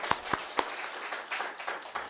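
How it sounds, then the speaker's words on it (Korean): A church congregation claps together after a member's answered prayer for a house, a short burst of scattered hand claps with several sharp near claps standing out in a small room. "영광의 박수"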